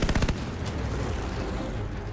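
Machine guns fire in a Battle of Midway video game, opening with a rapid burst of shots that gives way to a dense, loud roar of continuous gunfire.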